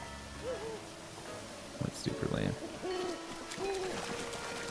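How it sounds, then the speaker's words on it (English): Bird hooting from a creature in the video game Zelda: Breath of the Wild, a few tonal hoots repeating over several seconds at moderate level, mixed with game sounds, with a voice speaking briefly. "I hear something making bird noises, but it doesn't sound like a chicken to me"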